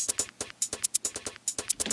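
Crisp, dry hi-hat ticks from a drum rack in a quick steady pattern, bright and close, set to zero stereo width so they sound narrow and centered with no spread.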